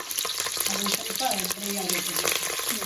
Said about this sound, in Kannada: ಎಣ್ಣೆ ಕಾದ ತಕ್ಷಣನೇ you have to put some curry leaves, ಕರ್ಬೇವು ಸೊಪ್ಪು ಹಾಕೊಬೇಕು.